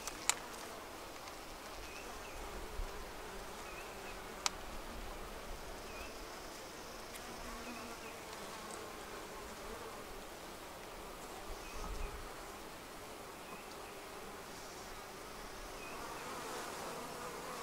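Honey bees buzz continuously around a hive and a queen cage, a soft, even drone at moderate distance with a few faint clicks and rustles, and no talking.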